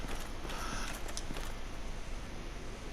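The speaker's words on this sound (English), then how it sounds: "Sounds like somebody shuffling, doesn't it?" Soft, irregular scuffing steps shuffle along under a constant background hiss, faint and muffled.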